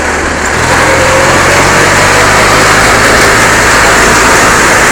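A trapper vehicle's small engine holds a steady cruising throttle, a loud, continuous buzzing drone close by with no change in pitch.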